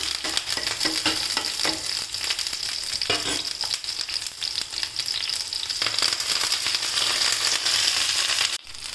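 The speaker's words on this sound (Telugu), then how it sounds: "కొంచెం రోస్ట్ అవ్వండి ఇవి లైట్గా అలా అయినాక ఇప్పుడు కరివేపాకు వేద్దాం" Curry leaves and spices roasting in hot oil in a pan for mint chutney, a dense, continuous frying sizzle with occasional crackles and stirring, loud and close with no talk.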